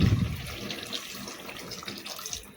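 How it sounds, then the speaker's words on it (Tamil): Water is poured into a chicken curry pot, a short, close splashing gush that fades within a couple of seconds. "நான் கொஞ்சோண்டு கறி வேகிறதுக்கு மட்டும் தண்ணி சேர்க்குறேன்"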